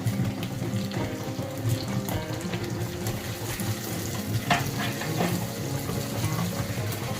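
Steady sizzling and frying crackle from tomatoes sautéing in oil in a pan for egg gravy, with occasional stirring scrapes, continuous and moderately close.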